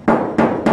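Three evenly spaced hollow knocks on a car body panel, close and loud, each a sharp thud with a short ringing decay, showing how the untreated metal resonates before sound insulation.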